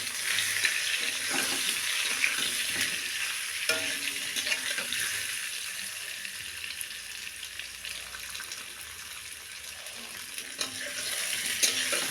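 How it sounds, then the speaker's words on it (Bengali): Boiled food frying and being stirred in a pan until it browns, a steady loud sizzle with scraping stirs throughout and no talk. "একটু লাল লাল করে ভাজতে হবে।"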